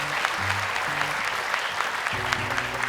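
Studio audience applauds at a televised Indonesian children's Quran recitation competition, with steady clapping throughout and faint voices over it.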